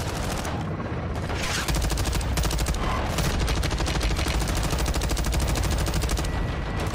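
Continuous rapid gunfire in the video game Call of Duty: Modern Warfare II (2022) campaign, dense automatic bursts running the whole time at a steady, loud level with no pauses.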